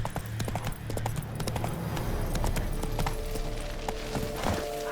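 Hooves pound in a quick, steady rhythm as Roach the horse gallops in The Witcher 3, close and prominent, with a brief tonal snort or whinny toward the end over rustling ambience.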